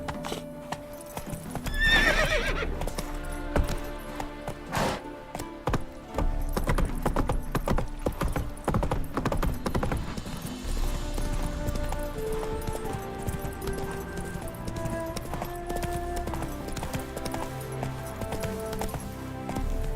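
Roach, a horse in The Witcher 3, gallops with rapid, rhythmic hoofbeats, and a neigh near the start rises above a backdrop of tonal sounds.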